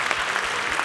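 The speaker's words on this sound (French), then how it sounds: "Oui, on peut l'applaudir, bien sûr" An audience at a French regional business awards ceremony applauds, a brief burst of dense, even clapping with no voices.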